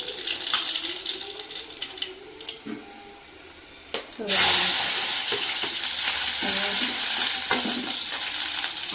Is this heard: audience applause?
no